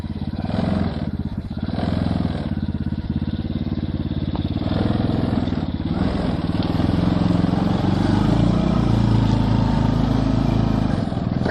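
A small mini car engine revs hard with the throttle held open, a loud continuous buzzing drone that rises and holds steady throughout.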